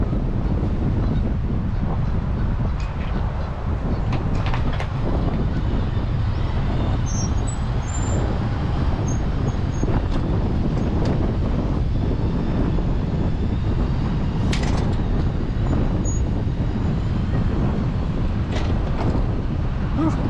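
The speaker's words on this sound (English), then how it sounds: "It really got windy." Strong wind buffets the microphone in a constant loud rumble, with faint knocks and a distant engine-like drone underneath.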